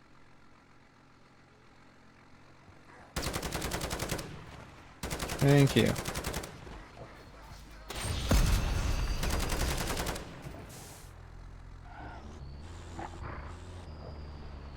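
Video game gunfire in several loud sustained bursts of rapid automatic shots separated by quieter gaps, with faint engine hum between and a brief spoken word near the end.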